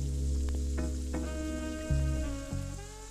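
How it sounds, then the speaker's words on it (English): Burger patties frying in an oiled pan with butter, sizzling hard at first and then easing off, with a couple of light knocks partway through. "Now, oil the pan up again and put the patties in."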